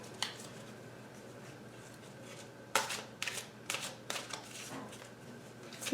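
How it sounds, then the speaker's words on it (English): Angel Therapy Oracle cards by Doreen Virtue being shuffled up close, a brief flick near the start, then a cluster of crisp riffling bursts and papery snaps over a low room hiss, with no voices. "I'm also going to pull an Angel Therapy Oracle card by Doreen"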